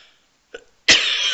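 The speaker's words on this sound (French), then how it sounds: "la petite toux du matin" A short, sharp cough, preceded by a faint catch of breath, then the room tone returns.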